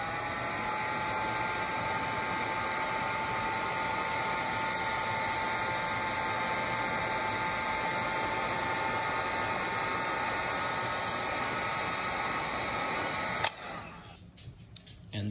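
A heat gun blows steadily while shrinking heat shrink tubing over a motor wire connection, a constant loud airy whoosh that runs unchanged before cutting off abruptly near the end.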